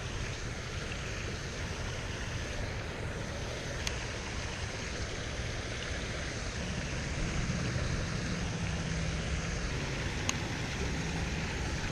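A waterfall at an urban fishing spot in Rio Vista pours steadily as a broad, constant rush of falling water that stays even and unbroken throughout, with no voices over it.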